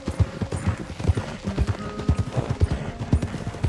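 Steady clip-clop of horse hooves in a regular walking rhythm in Red Dead Redemption 2, close and clear, with a faint whinny-like tone in the background.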